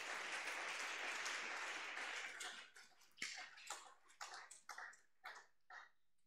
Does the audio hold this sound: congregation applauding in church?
yes